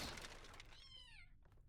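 A cat in the video game The Talos Principle: Reawakened gives a single clear meow, rising then falling, close by and fairly quiet. It follows a brief crack at the start.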